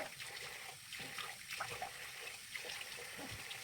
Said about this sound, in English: we're gonna rinse this off with cold water